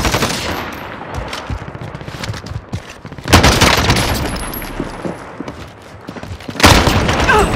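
Heavy gunfire in Warzone, with bursts of automatic fire and loud booming impacts crashing in twice, close and intense, over a constant rattle of battlefield shooting.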